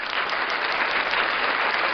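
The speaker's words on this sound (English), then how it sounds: "Let's give a round of applause to Rich Rockwell." A talk-show studio audience breaks into steady, dense applause, many hands clapping at once in a continuous wash of sound for the full two seconds, with no voices over it.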